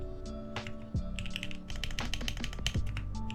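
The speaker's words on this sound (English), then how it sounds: "the joys of hacking happily on a keyboard" Rapid typing on a computer keyboard, a quick irregular patter of close key clicks with a few heavier thumps, heard alone without talk.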